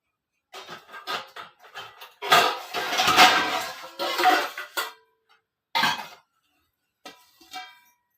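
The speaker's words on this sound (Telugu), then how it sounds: "ఇవి చిల్లుల గిన్నెలో వేసుకోవాలండి." Boiled taro tipped into a metal colander, a run of metallic clatters and scraping knocks from the pan and bowl, loud and close, in several bursts separated by pauses.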